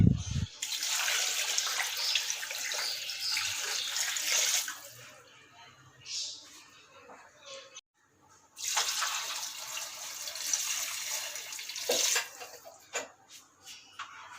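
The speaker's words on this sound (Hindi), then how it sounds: "अब इसमें मैं पानी डाल रहा हूँ।" Water pours steadily into a cooking pot of beef trotters being prepared for Lahori-style paya, a broad rushing splash in two long bursts separated by a short pause, close and fairly loud with no talk.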